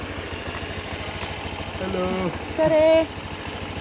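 A motor scooter idles steadily in the background on a rural road in Sulawesi, Indonesia, its low, even engine hum continuing throughout while people talk briefly over it.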